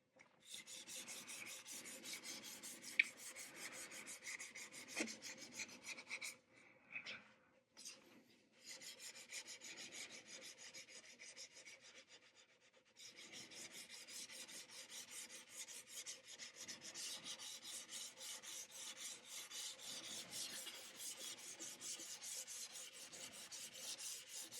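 Soft abrasive pad sands the contoured neck of an acoustic guitar, giving a quiet, continuous rasping hiss made of short back-and-forth strokes with a few brief pauses; no one speaks.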